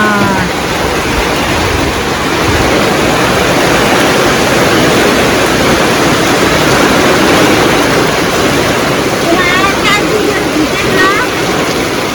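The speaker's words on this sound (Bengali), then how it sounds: "অবশেষে বৃষ্টি চলে আসলো। দেখুন কিরকম বৃষ্টি, বাপরে বাপ।" A heavy morning downpour roars as a constant, loud broadband wash, close and unbroken, with faint brief chirps near the end and a voice talking under it.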